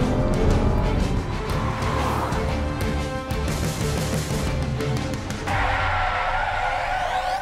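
An Audi A7 3.0 V6 TFSI petrol with seven-speed DSG gearbox and quattro all-wheel drive under way, a loud steady engine and road roar with tonal hum, shifting character partway through.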